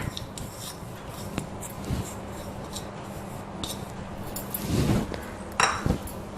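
Washed toor dal is tipped into a pressure cooker in a home kitchen, giving soft rustling and scraping with light metallic clinks and a louder pouring rattle near the end.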